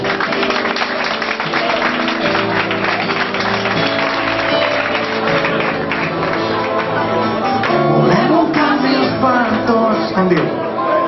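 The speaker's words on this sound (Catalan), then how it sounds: "un fort aplaudiment per ell" Audience applauding keyboardist Adrià Ferrer at a live concert, a steady dense wash of clapping that runs unbroken for around eleven seconds and swells slightly near the end, with music and cheering mixed in.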